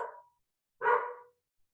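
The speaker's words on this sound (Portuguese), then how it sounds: "O dog resolveu latir agora." A dog gives two short barks about a second apart, moderately loud and slightly distant, in a quiet indoor room.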